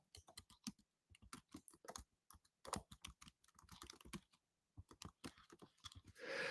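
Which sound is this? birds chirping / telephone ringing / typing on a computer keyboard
typing on a computer keyboard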